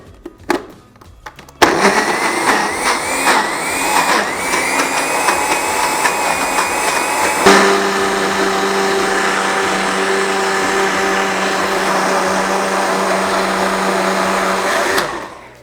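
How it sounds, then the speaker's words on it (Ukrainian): A kitchen blender whips pancake batter with eggs: a few handling knocks, then a loud close motor whine that steps down in pitch partway as the mixture thickens, running steadily to a sudden stop. "Починаємо все збивати."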